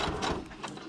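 A sewing machine stitching fabric onto paper, a soft, rapid mechanical whirring and ticking that runs steadily through the brief moment, close and moderately quiet.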